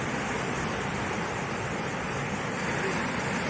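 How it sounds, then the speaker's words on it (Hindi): Floodwater after torrential rain surging against a blocked culvert on Kashipur road in Dineshpur, a constant broadband rushing roar, steady and fairly loud, with no speech. "देखिए पुलिया से निकल नहीं पा रहा पानी"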